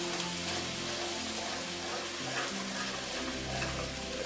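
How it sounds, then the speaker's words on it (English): Ground beef and flour cooking in a pan for shepherd's pie, giving a steady, moderate sizzle with soft stirring, close by and continuous without talk. "now that I've added some flour, I want to cook it for a minute more just to cook the flour"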